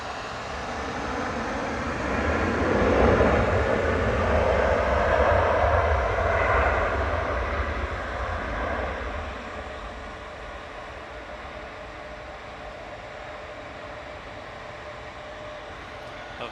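A Juneyao Boeing 787-9 arriving from Shanghai crosses the runway threshold at Manchester Airport, its engine roar swelling to a broad peak in the first seconds, then fading to a steady distant rumble.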